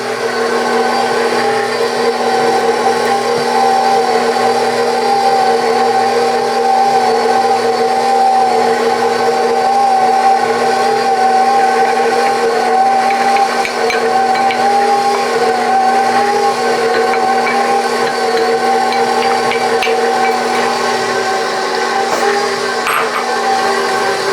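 A blender running on high mixes keto English muffin batter, a loud, steady, close motor whine that holds unbroken for the whole stretch.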